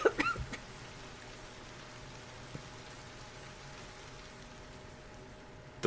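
Steady rain falls through an Ender Lilies game scene, a soft continuous hiss of drops holding at an even level throughout, with a couple of brief sharper sounds near the start and end.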